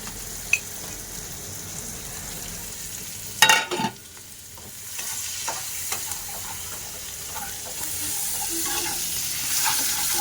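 A metal spatula stirs pumpkin and prawn curry in a hot wok. The ingredients sizzle steadily while a few scraping strokes sound close by, with one sharper clatter early on and no talking.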